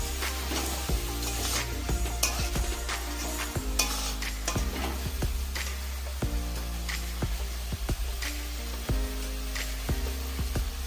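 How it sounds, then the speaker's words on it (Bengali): Garlic, chili paste and ground turmeric sautéing in a pan, with a steady sizzle under repeated scraping and clinking stirring strokes that knock sharply against the pan throughout. "এবার ভালো মতো এটাকে কষিয়ে নেব"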